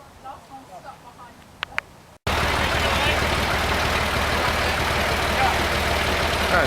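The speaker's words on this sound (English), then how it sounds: "Engine start" A narrowboat engine on the Ribble Link starts abruptly after quiet ambience, then runs in a steady, loud, continuous drone to the end, with chatter audible beforehand.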